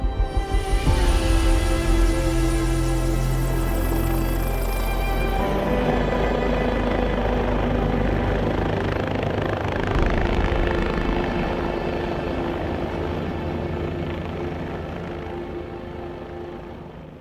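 A helicopter flies close and loud at first with heavy rotor thumping and turbine whine, then holds a steady drone that slowly fades as it moves farther away.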